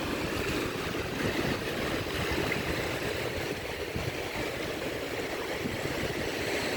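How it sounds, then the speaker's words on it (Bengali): Sea waves rolling in on Kuakata beach, a steady broadband wash of surf with some wind, continuous and fairly close throughout, with no voices. "এখন ঢেউগুলো অনেক উপরে চলে আসতেছে দেখেন"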